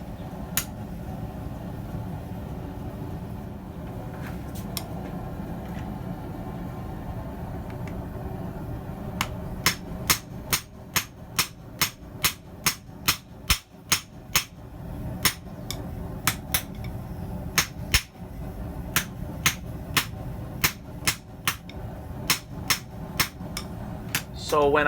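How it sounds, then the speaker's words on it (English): A hammer forges a YK30 steel tong blank on an anvil, with a few scattered strikes at first, then a long run of sharp, evenly paced ringing blows over a low steady hum. "just using basic tooling to make this tong blank"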